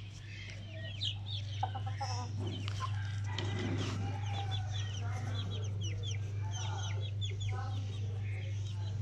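Clucks and chirps from a young, fully black rooster carry over a steady low hum, with scattered bird calls throughout and no clear crow.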